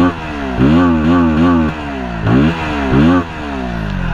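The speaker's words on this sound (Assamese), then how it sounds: "এক্সজষ্ট নোটটো মই শুনাইছো আপোনালোকক" A KTM 160 Duke motorcycle idles loudly up close, then its exhaust barks through several sharp revs that rise and fall, three distinct throttle blips over a rumbling idle.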